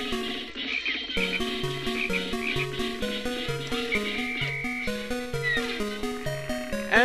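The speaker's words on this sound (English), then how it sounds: "And now, frog number 2." The frog enemy from the Pikmin game croaks in a rhythmic, repeating pattern of stepped tones over a looping game soundtrack, moderately loud and continuous with no voices.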